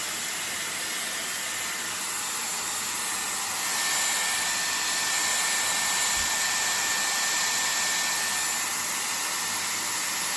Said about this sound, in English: I'm talking again over the hairdryer